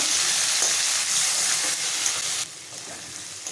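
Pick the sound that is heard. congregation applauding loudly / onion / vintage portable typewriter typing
onion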